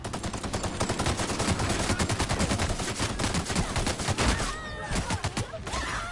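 Rapid automatic gunfire in The Outer Worlds Spacer's Choice Edition rattles out as loud, dense bursts of shots for about four seconds. It then gives way to quieter clicks and game sounds.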